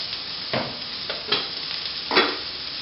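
Quinoa with vegetables and sesame seeds crackles steadily in a hot pan, with a few distinct scraping stirs of a utensil breaking through the continuous sizzle.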